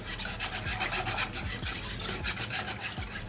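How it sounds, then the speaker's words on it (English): Steady whisking of eggless lemon filling mixed with a few drops of yellow food coloring, a continuous close scraping rasp with repeated stroke rhythm, no voices. "I'm going to add a few drops of food coloring. And we're going to whisk."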